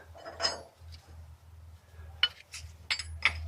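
Metallic clinks and scrapes from a 27 mm wrench working a bolt cap secured with an aluminium lock washer on a tractor engine's pressure-reducing valve, a few sharp ticks clustered near the end over a low hum.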